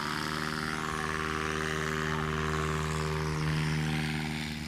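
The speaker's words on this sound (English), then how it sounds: "this aircraft rolling up to the line here, Legend aircraft, mother of all Cubs" A Legend Cub light aircraft taxies up to the flight line at the Sun 'n Fun fly-in, its propeller engine droning steadily and moderately close throughout, with a continuous even hum and no speech.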